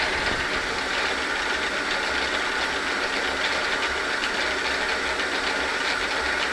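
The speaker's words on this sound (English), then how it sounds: "I just let the carriage push it over, and I'll be able to tell when that hits bottom." Metal lathe running steadily with a broad, even machine hum and whine, carriage advancing toward a carriage stop; no distinct knock of contact stands out, and no one speaks.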